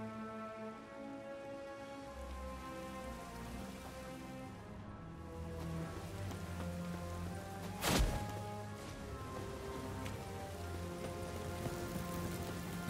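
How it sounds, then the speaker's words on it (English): Steady rain patters on surfaces in The Witcher 3: Wild Hunt, an even wash of drops over low game ambience and music, with one sharp loud hit midway and no voices. "Looks like rain."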